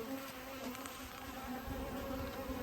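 Dense, steady buzzing of many honey bees crowding back into a hive during fall syrup feeding, a continuous close drone with no voices.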